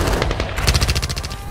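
Rapid burst of automatic gunfire in a Tagalog audio drama fight with rebels, a quick series of sharp loud shots firing in steady rhythm, close and alone without any voices.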